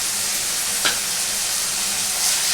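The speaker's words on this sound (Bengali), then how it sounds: "এবার এটাকে আমি ভালো করে নাড়াচাড়া করবো" Ridge gourd frying in a pan for jhinge chapor ghonto, a steady loud sizzle with one brief stirring scrape early on, close up.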